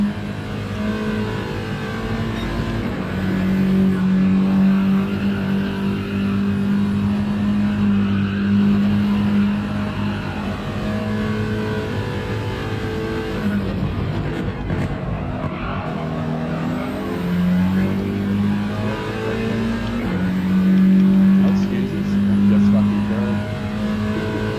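Race car engine in a racing video game, a steady droning engine tone with revving swells and a brief skid, running continuously under talk throughout.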